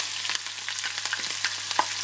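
Green chillies frying in hot oil for mango rice, a steady close crackling sizzle with brief pops throughout, no voices.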